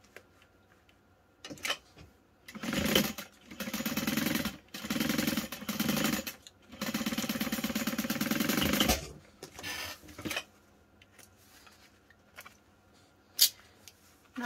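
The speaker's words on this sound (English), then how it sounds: "we're just sewing the top and the bottom." A sewing machine stitches the top and bottom panels of a fabric clutch wallet, running in several steady bursts of a few seconds each, separated by short pauses and light handling clicks.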